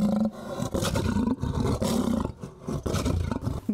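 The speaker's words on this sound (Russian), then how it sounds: "Грозный и могущественный – так звучит настоящий царь зверей." A lion at the Barnaul zoo in Altai roars loudly and close, a series of deep, rumbling bellows with short breaks between them, heard alone with no talk.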